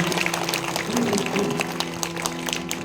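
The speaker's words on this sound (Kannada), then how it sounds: "ಒಮ್ಮೆ ಜೋರಾಗಿ ಚಪ್ಪಾಳೆಯನ್ನು ತಟ್ಟುವುದರ ಮೂಲಕವಾಗಿ" An audience claps loudly at a Karthikotsava Purana religious discourse, a dense crackle of many hands over a steady sustained musical drone.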